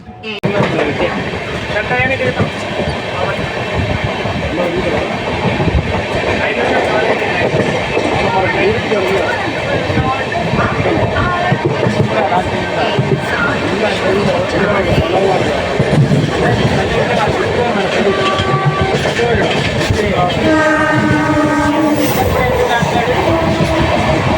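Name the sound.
Amrit Bharat Express train running, horn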